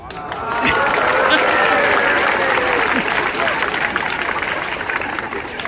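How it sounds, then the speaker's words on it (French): Schoolgirls in an assembly applaud a speaker, a dense wash of many hands clapping that rises quickly, holds steady and fades slightly, with whistles or cheers faintly above it. "merci pour vos applaudissements"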